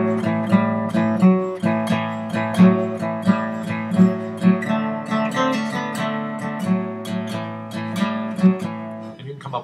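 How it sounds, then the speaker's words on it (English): A guitar chugs through a steady blues shuffle of swung eighth-note plucked chords with a bouncy, loping feel, played alone and clearly. "that's the sound of the blues shuffle"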